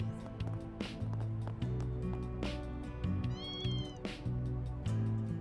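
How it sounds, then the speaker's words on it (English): Several cats meow in the video game Trails Through Daybreak II, a run of close, repeated mews and short yowls rising over soft game music and ambience, with no voices. "Looks like the cats have mellowed out a bit."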